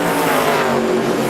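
NASCAR Nationwide race cars at Gateway roar at full throttle in a dense, loud engine drone that holds steady through the brief moment.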